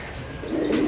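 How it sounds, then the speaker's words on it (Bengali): A young grizzle racer pigeon gives a short, low, throaty coo near the end of a brief, quiet moment. "এটা হলো বাচ্চা কবুতর"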